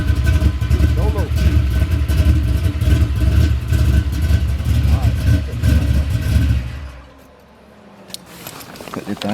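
Chevrolet S10 pickup truck with a swapped-in V8 engine running loud and close, a steady heavy rumble that drops away sharply near the end before rising again, with people talking over it.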